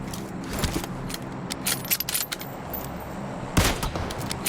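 Gunfire in the mobile game PUBG Mobile, heard as sharp, loud bursts of shots in quick clusters, some closer together than others, over a steady game background with no speech.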